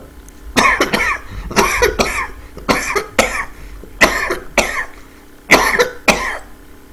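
Repeated harsh coughing fits, loud and close, come in clustered bursts of two or three coughs separated by short pauses.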